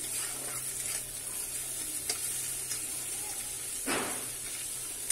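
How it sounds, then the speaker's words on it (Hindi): Egg bhurji, scrambled eggs with onion, frying in a pan with a steady close sizzle and hiss, a few faint stirring knocks and one louder spatula scrape near the end. "जल्दी के लिए बन रहा अंडा भुर्जी"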